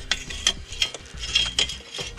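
Bolts being threaded in by hand on a Toyota MR2 turbo ignition coil, with small metallic ratcheting clicks and taps repeating in short bursts, close up, with no talk.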